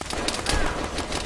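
Gunfire in a military shooter game, a dense crackle of rapid shots in quick clustered bursts, loud and close, with no voices over it.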